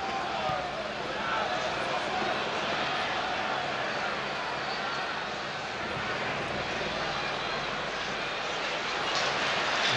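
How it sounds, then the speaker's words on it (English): Helicopter droning overhead above a packed football stadium, a steady engine and rotor rumble blended into continuous crowd noise for the whole stretch. "There's a sound of a helicopter above us somewhere."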